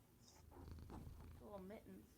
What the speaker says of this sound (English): I can hear the purring